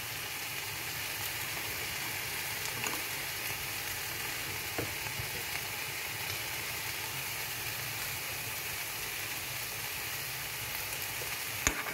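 Paella ingredients, including vegetables and prawns, frying in a pan while being stirred, giving a steady close sizzle with occasional scrapes and clinks throughout.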